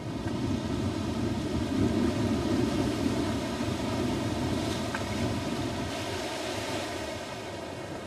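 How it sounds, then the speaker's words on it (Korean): Strong, steady wind roars with surging sea waves out on the open water near a small fishing boat off Palau, a broad continuous rush that stays loud and unbroken with no voices. "갑자기 바람이 점점 심해졌다."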